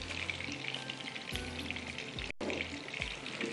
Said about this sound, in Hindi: बस अब इसको फ्राई करते हैं, एक साइड से ज़रा सा हो जाए।